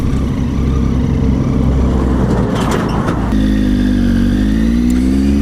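A new adventure motorcycle cruises along a scenic road with a steady, loud engine drone, briefly dipping and then rising again as the rider rolls on the throttle, wind noise running underneath throughout.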